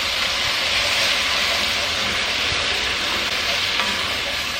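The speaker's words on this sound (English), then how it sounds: "I'm gonna add in some cooking sherry and scrape the pan" Cooking sherry hits a hot pan and sizzles steadily while the browned bits are scraped from the bottom, a loud, continuous hiss with no pauses.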